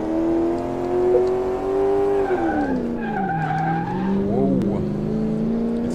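Simulated car in Car Mechanic Simulator 2018 driven roughly over a bumpy test path, a loud steady engine drone that dips and rises in pitch with tyre skid and squeal noises, no talk over it.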